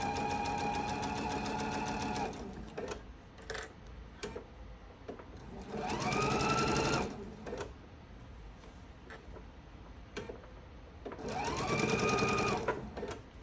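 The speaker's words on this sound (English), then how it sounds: "I'll continue to sew until I get to the clip and take that clip off" Domestic sewing machine stitching a four-patch quilt block, running in several bursts of steady whirring separated by pauses, fairly close with no talk.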